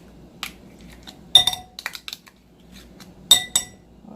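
A spoon scrapes and clinks against a cup while scooping sour cream and mayo for corn-in-a-cup elote with Takis, giving a few short, close knocks and taps with quiet gaps between them.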